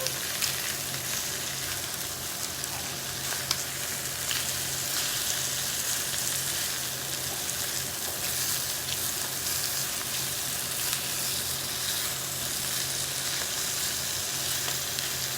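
Five chicken thighs browning in a skillet for puttanesca, a steady, dense sizzle and spatter running unbroken throughout, close and loud with a low hum underneath.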